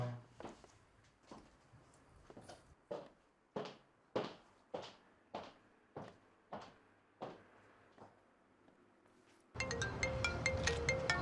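A phone ringing with an incoming call: about a dozen short, evenly spaced rings, fairly quiet, then a sudden louder, dense burst of sound takes over.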